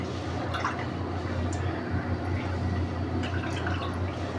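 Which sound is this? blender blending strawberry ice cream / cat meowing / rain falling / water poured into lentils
water poured into lentils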